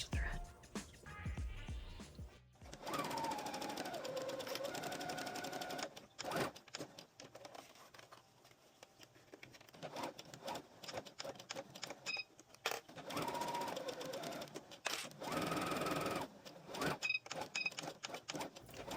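A sewing machine stitches a fabric bag, back stitching and then sewing to the end, with a steady close whirring run broken by short pauses and restarts, under occasional quiet talk.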